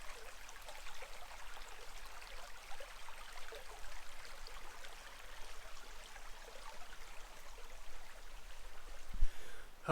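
A creek flows steadily in rugged Australian wilderness, a soft continuous hiss of running water close by and fairly faint, with a small thump near the end.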